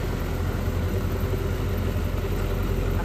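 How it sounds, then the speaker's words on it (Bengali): An Indofarm 3055DI 2WD tractor engine runs at a steady, loud, close diesel drone with a constant low throb and no break, working in deep mud. "একবার ইঞ্জিনের সাউন্ডটা দেখো।"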